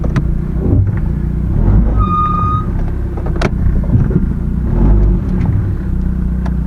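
Car engine idling and warming up at a Copart salvage auction lot, a steady low rumble heard from close by with a brief electronic beep partway through and a few sharp knocks.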